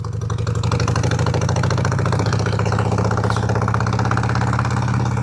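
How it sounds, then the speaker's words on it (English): A 2009 Harley-Davidson Sportster Nightster 1200 idling close by, a loud, steady, lumpy low-pitched V-twin throb with rapid even pulses and no talk. "So this is a 2009 Sportster Nightster"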